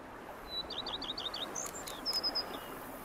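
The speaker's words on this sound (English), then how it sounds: "Bees buzzing, birds chirping." Several birds chirp in The Witcher 3 video game, a quick run of bright repeated tweets followed by a few sharper calls, moderately close over a soft ambient background with no talking.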